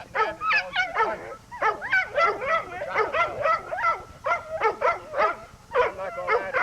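A young puppy, never taken into the field, yips, barks and whimpers in rapid repeated bursts, close and fairly loud, with high whiny cries running through the barking.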